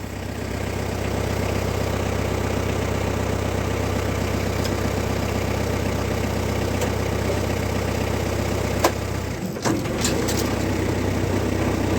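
A Woodland Mills WC88 wood chipper driven by a tractor's rear PTO runs at low speed, giving a steady, close engine drone throughout with a brief clunk near the end.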